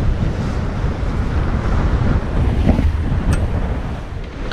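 Strong wind buffets the microphone over steady surf and breaking waves at sea off Cap Corse, a continuous loud roar with gusts swelling throughout, no voices.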